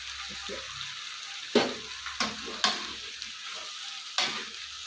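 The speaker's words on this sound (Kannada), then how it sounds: "ಈ ಪಲ್ಯ ಆಗ್ತಾ ಇದೆ ಚಪಾತಿ ಪಲ್ಯ ಕ್ಯಾಬೇಜ್ ಪಲ್ಯ" Cabbage palya for chapati cooks in a pan, with a soft background sizzle broken by several sharp scraping stirs of a spatula, spaced irregularly and heard close by.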